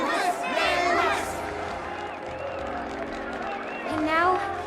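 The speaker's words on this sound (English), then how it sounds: "Let us gift our applause and cheers to these brave and dauntless Nameless." A crowd cheers and chants in the Honkai: Star Rail video game, rising in swells at the start and again near the end, with voices and game music layered over a constant murmur.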